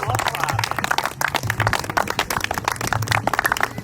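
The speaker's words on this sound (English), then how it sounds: "Applause, applause, applause." Clapping and cheering from a small group greeting the four Tournament of Power semifinalists, with close sharp claps and whoops over voices talking and shouting throughout.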